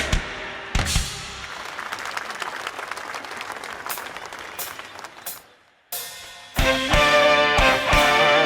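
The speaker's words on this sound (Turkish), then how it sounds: "Alkışlar sizlere gelsin." Concert audience applauding at a New Year show, a dense wash of clapping that swells, briefly drops out, then returns louder and fuller with music rising beneath it.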